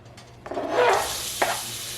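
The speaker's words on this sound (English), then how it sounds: "Add a little bit of olive oil. And we are going to fry up some chopped onions" Chopped onions hit hot olive oil in a frying pan and start sizzling, with stirring and scraping swells over a quiet low hum, close and moderately loud.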